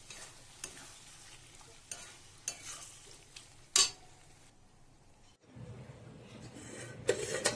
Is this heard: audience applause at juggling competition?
no